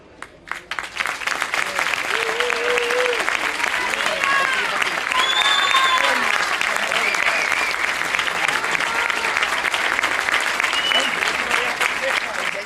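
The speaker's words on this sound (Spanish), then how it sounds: "vamos darche ese fuertísimo aplauso" A large audience at an Asturian folk music award ceremony bursts into strong, sustained applause that swells quickly and holds loud and dense, with voices calling out beneath it.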